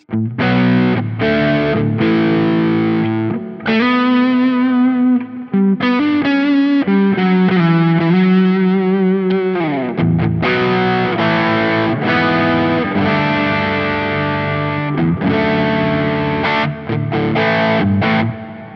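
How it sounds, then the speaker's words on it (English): An electric guitar plays chords and riffs through a crunchy overdrive on a Quad Cortex, saturated and sustained, loud and alone with no voices. "Liking the sound of this overdrive."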